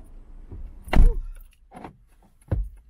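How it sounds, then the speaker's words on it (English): Inside a car, a sharp mechanical thunk of the door locks engaging is followed by quieter clicks and rustles, then another solid clunk a moment later. "As soon as I get in the car, I lock the doors"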